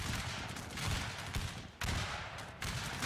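Massed infantry muskets crackle in ragged volleys during a Shogun 2: Fall of the Samurai battle, Saxony infantry against Belgian grenadiers; dense overlapping gunfire rolls continuously with a few sharp breaks.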